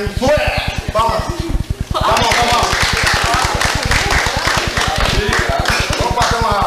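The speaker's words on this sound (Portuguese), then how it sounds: "Palmas, palmas!" Audience at a 1990 theatre group meeting in Santa Rosa de Viterbo clapping in unison, a fast, steady rhythm of loud claps that carries on throughout while people talk and cheer over it.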